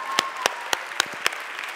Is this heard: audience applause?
yes